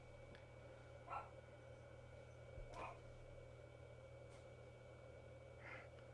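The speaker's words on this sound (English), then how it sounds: "one of my dogs barking" A pet dog barking indoors at a distance, three or four single muffled barks spaced a second or more apart over a steady low hum, with no talking.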